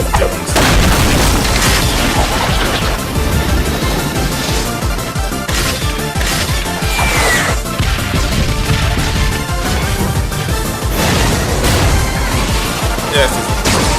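Heavy booming explosion and crashing impacts from a Death Battle animation pitting Amy against Ramona, loud and dense throughout with repeated blasts over a continuous score.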